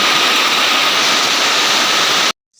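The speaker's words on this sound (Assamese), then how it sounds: "এয়া মানে বৰষুণ মানে পুৰা বৰষুণ দিছে" Heavy rain pours down in a dense, loud, unbroken roar that stops abruptly just before the end.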